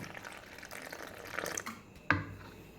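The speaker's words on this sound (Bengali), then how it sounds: "এবার আন্দাজ মতো জল দিয়ে দেব" Water poured from a container into a bowl of batter mix in a home kitchen, a soft, brief splashing trickle that ends in one sharper splash near the end, fairly faint and heard alone.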